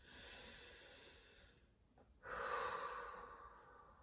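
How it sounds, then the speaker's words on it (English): Deep, slow breathing during a judo stretch, a long broadband exhale that fades, a brief pause, then a stronger inhale-exhale rising again, close and steady with no talking. "Three more breaths."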